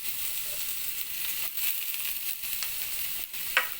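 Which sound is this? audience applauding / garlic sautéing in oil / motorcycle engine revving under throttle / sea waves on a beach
garlic sautéing in oil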